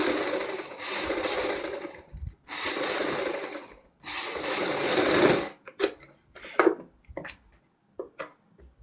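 A sewing machine stitches a kurti front neck design along pasted paper, running in three long steady bursts before breaking into short stop-start runs near the end.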